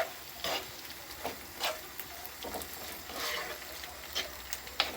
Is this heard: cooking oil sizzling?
yes